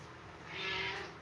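A pet cat gives a single drawn-out meow that swells in the middle and fades, close up, with faint background noise and no talking.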